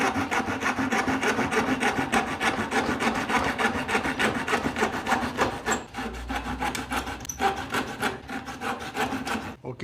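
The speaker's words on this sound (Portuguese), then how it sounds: "Mas você deve serrar com 1 milímetro a menos." A hand saw cuts through wood for a simple joint, its steady back-and-forth rasping strokes close and continuous, slowing slightly near the end as the cut nears completion.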